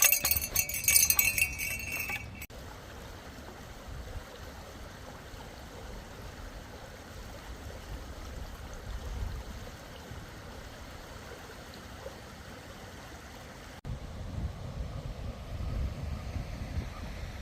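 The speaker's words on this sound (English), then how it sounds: "there's a nice little creek right over here" A small creek flows outdoors with a soft, steady wash of water under wind noise, starting after a brief clatter and growing a little louder near the end.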